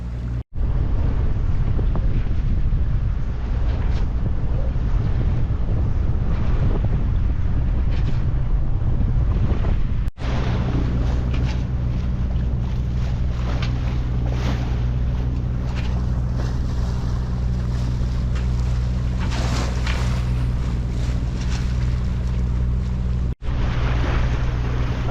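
A sailboat under way at sea heading toward Banjul, the Gambia, with steady strong wind buffeting the microphone, a constant low rumble of hull and water, and waves washing past throughout, no voices.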